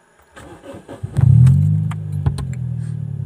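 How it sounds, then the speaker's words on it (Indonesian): A car engine cranks and catches during a driving lesson, a short starter whir followed by a loud steady idle, with a few clicks of keys or switches nearby. "start mesin."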